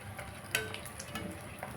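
Fuchka shells fry in shallow oil in a kadai, a soft, close sizzle with light crackling and a single metallic clink of a utensil.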